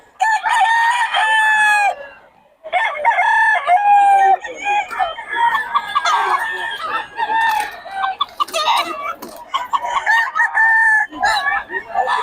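Chickens at a poultry sale cluck and crow loudly and close by, and a black hen is among the birds offered. Rooster crows and clucking overlap throughout.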